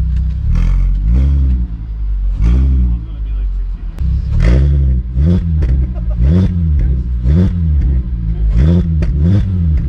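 A car engine with a Milltek exhaust, sports cat and headers revs repeatedly with a deep, throaty exhaust note, loud and close, each burst rising and falling in quick succession.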